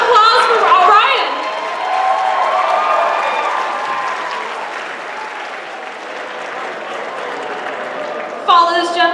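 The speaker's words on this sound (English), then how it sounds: "Let's have a round of applause for Orion!" An audience at the Neko 18 masquerade awards breaks into sustained applause for a costume contestant. A voice speaks at the start and again near the end, and the clapping stays fairly loud and fades slightly in the middle.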